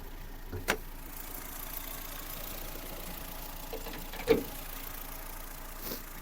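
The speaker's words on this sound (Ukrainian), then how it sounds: "Робота двигуна. Двигун працює гарно" A Ford Fusion 1.4 engine idles with a steady, low, even hum throughout, with a few brief clicks and knocks rising above the drone.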